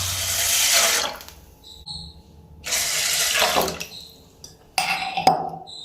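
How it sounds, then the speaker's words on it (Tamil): Two cups of water are poured into red rice in a pot for pongal, heard as three splashing pours in separate bursts with short breaks between them. "இதே சேம் டம்ளரில் 2 கப் அளவுக்கு தண்ணி வந்து நம்ம சேர்த்துக்கலாம்"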